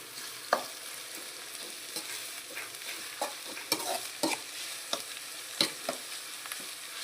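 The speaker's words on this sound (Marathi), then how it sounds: "आता यामध्ये मी कांदा टाकून घेणार आहे। आहे ना गोल्डन ब्राऊन कलर येईपर्यंत चांगला आहे ना परतवून घ्यायचा" Onions fry in a pan, a soft continuous sizzle punctuated by scattered clicks and scrapes of a spatula stirring, close but fairly quiet, without talk.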